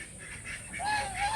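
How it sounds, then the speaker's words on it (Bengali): Large domestic geese honking in a loud run of nasal calls that swell toward the end, heard outdoors at the grounds of a rural palace estate. "বড় রাজহাঁস"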